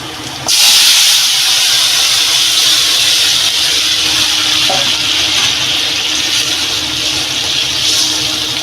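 Vegetable curry tipped into a hot pan for a Bengali potol and greens dish, bursting into a loud, steady hiss of sizzling steam that starts abruptly and holds evenly throughout, with no voices.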